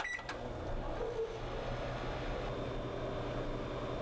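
A household microwave oven runs with a steady, even electrical hum and fan drone, close and constant throughout, with a couple of faint clicks at the start.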